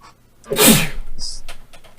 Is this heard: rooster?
no